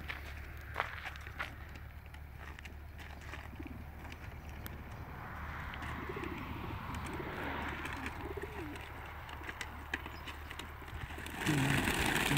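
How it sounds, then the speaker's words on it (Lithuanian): Racing pigeons shut in transport boxes at an outdoor release spot before a junior race stir and coo softly, with low murmuring calls, shuffling and light scrabbling over a faint steady rumble; a louder rustle comes at the end. "Labai sujuda mano balandžiai dėžėse."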